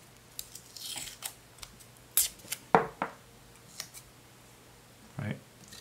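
Short bursts of tape being pulled and torn from a roll while building a Slayer exciter coil, a few separate crisp rips and crinkles at close range with quiet gaps between them.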